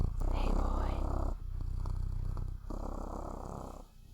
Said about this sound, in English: Let's see if we can get some Buster purring going on